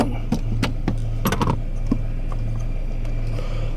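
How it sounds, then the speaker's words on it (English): Light tapping on a heater fan part in a Dodge Dart, a handful of sharp, irregular knocks over a steady low hum, close by, with a brief voice. "Let me tap this a little bit."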